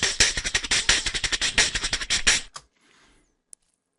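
A warped neurofunk drum and bass drum loop sample hits in a fast, dense, punchy pattern for about two and a half seconds, then cuts to near silence with one tiny click.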